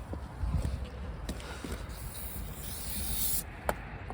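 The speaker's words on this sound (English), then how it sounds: "Some brake cleaner real quick." Brake cleaner hisses from an aerosol can onto the brake rotor of a 2012 Dodge Charger, short spray bursts with a longer hiss near the end, plus a small clank, fairly quiet and close, with no speech.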